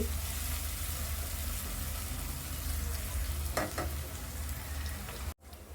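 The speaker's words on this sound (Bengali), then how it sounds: "পেঁয়াজগুলোকে হালকা ব্রাউন করে ফ্রাই করে নিয়েছি।" Chopped onions frying in a pan, a dense, loud, unbroken sizzle close up with a couple of quick stirring scrapes and a brief cut near the end.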